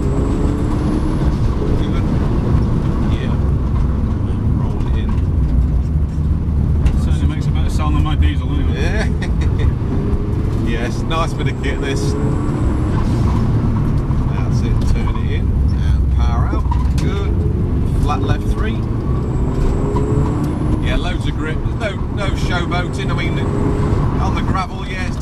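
Rally car engine accelerating and revving on a loose surface, loud and continuous with gear changes and surges, while a co-driver talks throughout.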